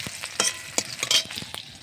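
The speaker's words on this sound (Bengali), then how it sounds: "পেঁয়াজটা ভাজা চলছে, বেরেস্তা বানাবো পেঁয়াজের, তাই ভাজছি।" Sliced onions fry in a pan for birista, giving a soft steady sizzle broken by several sharp scraping stir strokes at irregular moments, close and fairly quiet, with no voices.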